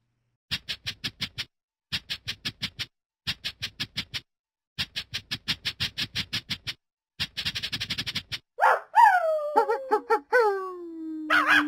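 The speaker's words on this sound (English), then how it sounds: "Three dogs." Cartoon dogs in the Starfall counting app give repeated bursts of quick, bright yaps in tight groups, then a few longer falling howls at the end, loud and close with no talk over them.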